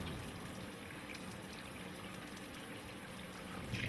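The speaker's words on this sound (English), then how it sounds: "Perform routine washing of hands and arms using antiseptic soap." A tap runs steadily as hands and arms are washed with antiseptic soap before a surgical scrub, a continuous even water hiss from start to finish with no talking.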